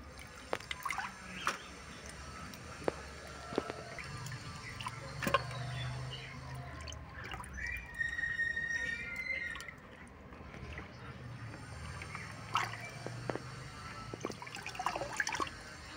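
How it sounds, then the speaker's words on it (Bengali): Running tap water splashes and trickles steadily over raw meat that was rubbed with lemon as it is rinsed clean, with small drips and handling noises and a brief faint voice. "এই যে লেবু দিয়ে মাংস চটকে রেখেছিলাম, এখন সেটা পরিষ্কার করে ধোয়া হচ্ছে।"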